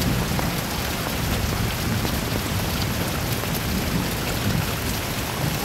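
Rain falls in a dense, even hiss on surfaces all around, steady and fairly loud with no voices.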